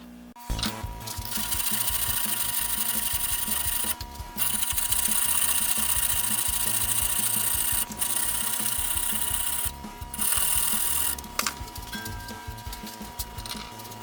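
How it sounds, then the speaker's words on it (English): A wire brush scrubs stuck-on rust from a reamer held steady by a mounted grip, giving loud sustained bursts of harsh scratching broken by short pauses, with no talking. "That way I can hold it steady while I do the wire brushing."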